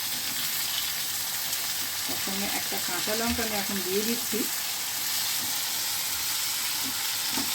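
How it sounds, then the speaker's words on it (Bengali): Pointed gourd with salt, turmeric and green chilli fries in a pan with a steady, close hiss of sizzling oil throughout, while someone speaks briefly over it in the middle. "দিয়ে এটাকে খুব ভালো করে একটু ভাজা ভাজা করে নেব।"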